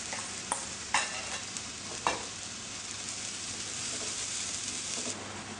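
Spices fry in a few tablespoons of hot oil for a Delhi-style chicken dish, giving a steady, close sizzle broken by a few sharp scrapes and knocks of a stirring utensil early on, with no talking.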